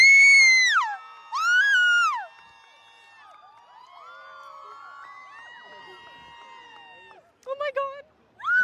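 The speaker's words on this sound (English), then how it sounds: "Stop screaming." Fans at a Comic Con panel in Los Angeles scream in shrill, falling bursts, with two loud outbursts at the start, a quieter stretch of scattered calls, then a few sharp squeals near the end.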